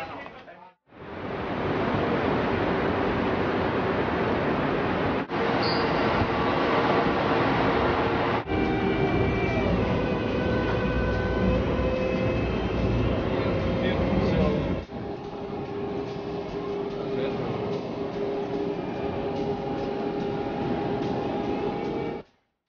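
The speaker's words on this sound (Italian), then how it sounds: "viene avanti un treno" A train pulls into Milano Centrale station in the 1980s with a loud, continuous rumble and roar lasting over twenty seconds, with faint voices in the background.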